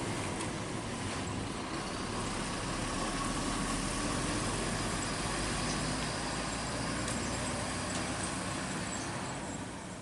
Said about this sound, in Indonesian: bus Bintang Kejora langsung bertolak keluar menuju Jakarta dan sekitarnya